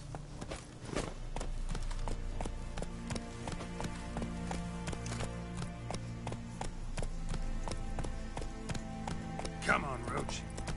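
Roach, the horse in The Witcher 3 on PS5, galloping: a steady, rhythmic clatter of hooves over a continuous game soundscape and music, with a rider's voice urging the horse on.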